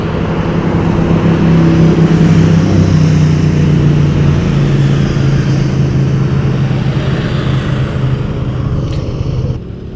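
BMW R80 motorcycles on a road in New Zealand's Southern Alps make a loud, steady engine roar that stays close and continuous throughout, dropping slightly right at the end.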